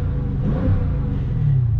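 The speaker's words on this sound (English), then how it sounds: "I love the sound of the exhaust" A 2020 Dodge Challenger Scat Pack Widebody exhaust revs up loud and close, a deep throbbing rumble that swells slightly as the throttle opens.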